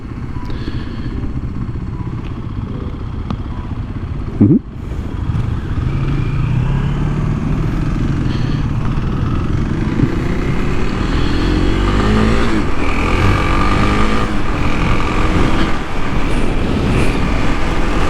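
A Kawasaki KLX 300SM six-speed supermoto is ridden at speed. The engine note roars loud and close, with a constant rumble, shifting revs and wind noise, plus a brief change in the engine note partway through.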